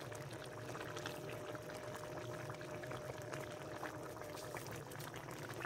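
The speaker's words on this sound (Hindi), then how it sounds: "घी शामिल कर लेंगे।" Ghee is added to mutton karahi cooking in a pan, giving a steady, moderately quiet bubbling sizzle that continues throughout.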